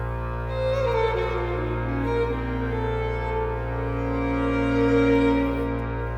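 A smooth Haken Continuum chord held by sostenuto for several seconds, warm and sustained, with slight swells in the upper tones.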